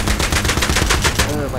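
Automatic gunfire in the video game Battlefield 3 on the Thunder Run mission rattles out as a loud, rapid burst of evenly spaced shots, ending in a short ringing tail.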